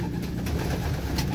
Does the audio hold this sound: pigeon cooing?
yes